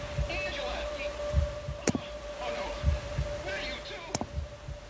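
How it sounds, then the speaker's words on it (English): Heartbeat effect in the Land of the Dead: Road to Fiddlers Green video game, a low, regular thumping pulse repeating about once a second under hum, with faint background voices and sharp game clicks. "isn't this heartbeat a little bit annoying?"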